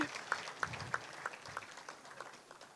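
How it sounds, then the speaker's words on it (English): Sparse, scattered clapping from a small audience at an annual general meeting, a handful of distinct claps standing out over a quiet, fading background. "A round of applause for all of yourselves"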